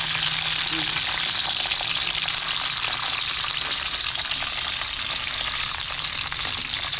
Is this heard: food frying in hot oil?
yes